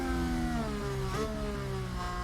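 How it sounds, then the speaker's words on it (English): Formula 1 car engine in the F1 Manager 2022 racing game, a steady high-pitched whine with pitch slowly falling then shifting, heard at moderate level without talking. "Does Alonso's engine sound like that?"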